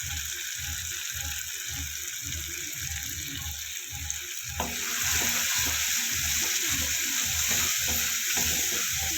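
Spice masala of Kashmiri chilli powder and turmeric fries in a pan for a bitter gourd dish, a close, steady sizzle with rhythmic stirring scrapes that turns louder and hissier as water is poured in.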